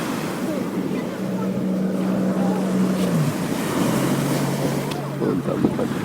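Motorboat racing past close to a beach on the north side near Sevastopol, its engine drone rising and falling over steady surf and wind noise.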